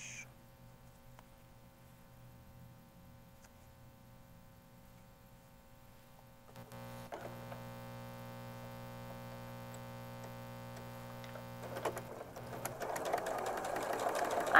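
A sewing machine piecing quilt fabric together with neutral thread starts after a quiet stretch and runs at a steady hum, faint and close, with its whir growing somewhat louder toward the end.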